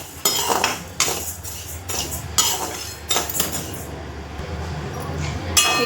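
Metal spoon stirring and scraping raw rice as it roasts dry in a hot kadhai, giving repeated clinking and scraping strokes at close range with a steady rustle between them and no talking.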